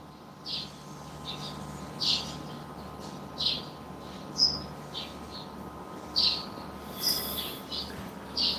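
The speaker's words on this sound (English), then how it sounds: "The birds are going crazy outside." Birds chirp outside in short, bright, scattered calls that repeat every second or so, moderately distant, over a steady low background hum with no talking.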